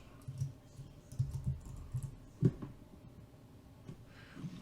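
Keys tapped on a computer keyboard while entering data into ranking software, a few scattered clicks and short bursts of typing heard up close and fairly quiet, with no talking.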